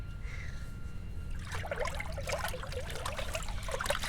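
Liquid pours and trickles during homemade paper-making, a thin watery splashing stream that starts partway through and keeps running steadily, close and moderately quiet with no talk.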